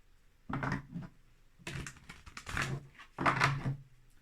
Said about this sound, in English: Just going to give it a couple of shuffles.